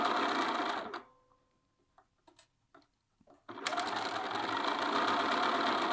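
A sewing machine stitching a shirt sleeve runs loud and steady and close, stops for a few seconds of quiet fabric handling and soft taps, then starts again at full speed.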